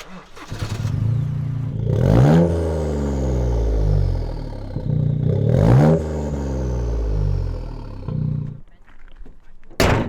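Toyota GR Corolla with a 3-cylinder 1.6-litre turbo engine revs hard twice, each burst climbing in pitch before falling away, loud and close, with a shorter blip at the end; voices speak briefly between the revs.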